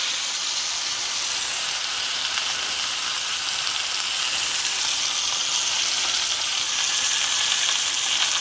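Rub-coated pork butt sears in a pan over medium-high heat, giving a bright, steady sizzle and crackle, close and continuous, with no voices.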